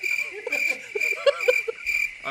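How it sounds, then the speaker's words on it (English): A cricket sound effect plays at a steady, close, loud chirp, a continuous high trill with faint talk or sounds beneath it. "Where's the cricket sound?"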